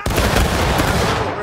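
Musket volley fire in the Civil War game War of Rights: a dense, loud burst of overlapping gunshots rolling together into a continuous roar for about a second and a half, close and harsh.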